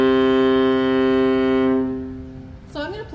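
A low, rich note bowed on a viola, held steadily for about two seconds before fading, followed by a brief burst of a voice speaking.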